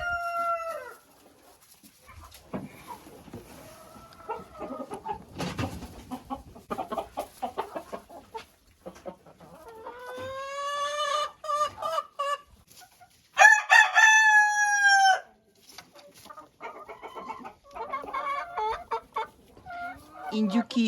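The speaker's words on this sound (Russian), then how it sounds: "Слышали, кто это кукарекает?" Ameraucana chickens clucking nearby with a rooster crowing loudly in between, in a farmyard where turkeys are also kept; cackles and short clucks come in irregular bursts, while a faint voice talks now and then.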